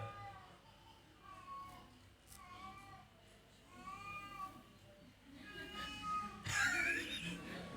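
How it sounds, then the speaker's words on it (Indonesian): A cat in heat meowing repeatedly, drawn-out wavering yowls coming every second or so, growing louder toward the end, with people murmuring faintly in the background. "Ini pengen kawin ya kucing dia."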